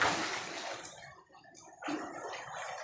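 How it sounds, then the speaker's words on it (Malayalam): Water splashes and sloshes in uneven bursts as someone bathes in a well in Salalah, Oman, fairly quiet and close, with a brief lull before the splashing picks up again. "സലാലിത്തെ കിണറ്റിലാണ് ഇപ്പോൾ കുളിച്ചുകൊണ്ടിരിക്കുന്നത്"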